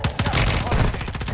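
Rapid gunfire from other players in a shooter video game: a dense run of overlapping shots, loud and close, fills the whole moment.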